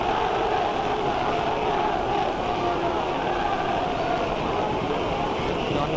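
A 1972 stadium crowd at a Crystal Palace versus Everton football match roars in a steady, continuous wash of cheering and chanting throughout, with no clear individual voices.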